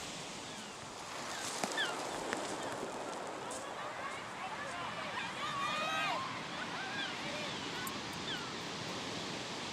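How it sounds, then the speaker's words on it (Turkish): Rough sea waves roar and wash in a steady broad rush, moderately close, with voices talking over the surf. "Dalgalar fenaymış."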